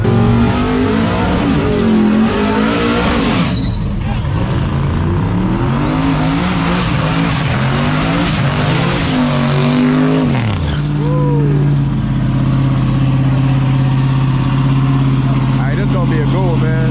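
Full-size trucks race down a drag strip, loud engines roaring and revving hard with rising pitch, then dropping off. Talk runs over the engine noise.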